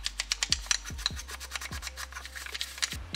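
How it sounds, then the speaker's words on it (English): Stiff brush scrubbing carbon buildup off RM250 two-stroke engine parts, a steady run of close, rasping strokes with short repeated bursts of friction and no talking. "I got a feeling we're gonna have to do some scrubbing"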